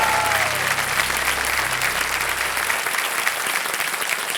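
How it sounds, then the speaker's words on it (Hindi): Studio audience of the Kaun Banega Crorepati Season 14 quiz show bursting into loud, sustained applause, a dense wash of clapping that fills the room steadily throughout. "जोरदार तालियां बज जाए एक बार इधर से भी"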